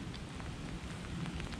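Rain falls steadily during a perch fishing trip, a faint, even hiss with scattered light patter continuing throughout and no one speaking.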